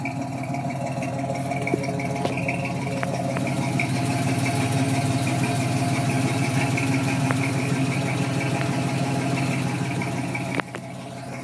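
A 1964 GMC truck with a newly fitted exhaust idles steadily, a close, even low rumble with light rattles that holds throughout without any speech.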